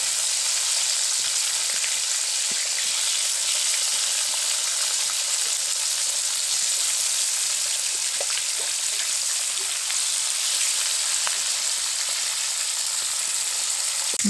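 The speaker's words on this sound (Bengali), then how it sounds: "মাছগুলোকে এবার একটা একটা করে উল্টে দেবো।" Tilapia fish pieces frying in oil after being flipped over, a constant close hissing sizzle with faint crackles, unbroken and steady with no voices.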